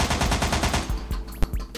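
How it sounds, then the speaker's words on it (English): Battery-powered toy gun fires several rounds in a rapid, loud, rattling burst of regular pulses, followed by a few scattered sharp clicks and one distinct bang. "fires multiple rounds at a time."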